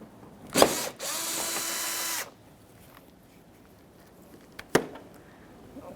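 A power driver whirs briefly, backing Phillips head screws out near the headlight of a Nissan Frontier, with a short clack before it and another sharp tap after, in a quiet garage.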